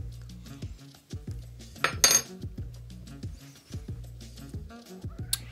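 A decent-sized spoon clinks and scrapes against a glass jar of green chilli sauce, several close metallic taps with one brighter cluster of chinks midway, no speech heard.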